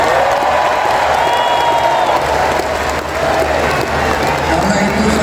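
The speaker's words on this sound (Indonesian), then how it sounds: "saya mengerti kenapa tepuk tangan untuk Menteri Keuangan yang paling keras" An audience applauds the Finance Minister at a Teachers' Day event in Indonesia, a loud, steady wash of clapping with some cheering that lasts throughout.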